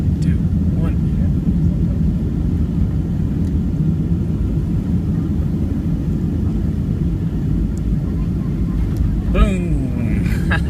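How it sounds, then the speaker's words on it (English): Inside the cabin of a Delta Air Lines Boeing 757-351 landing at Honolulu, a steady loud low roar and rumble of the airliner rolling on touchdown continues throughout, with brief voices near the end. "Boom! We just touched down."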